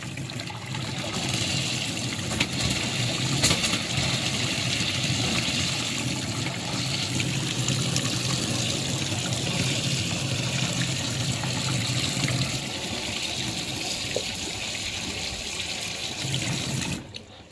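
Water lines on a Philippine beach house being connected to a pressure tank hiss and spit steadily as air blows out, a continuous rushing splutter close by with a few sharper bursts.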